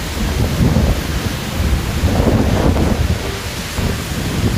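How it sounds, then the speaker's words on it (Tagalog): Loud wind roars and gusts across the microphone in waves, a heavy continuous rumble that swells and eases like a stormy blast, during Tropical Storm Enteng. "Lakas ng hangin mga kabiyahe."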